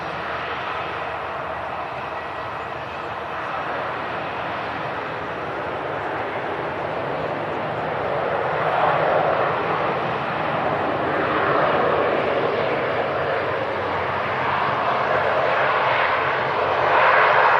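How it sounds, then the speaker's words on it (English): Aer Lingus airliner landing on arrivals runway 23 right at Manchester Airport, a broad steady jet roar that swells gradually louder over about seventeen seconds. "Catch this Aer Lingus in the traditional Aer Lingus colours, about to land here."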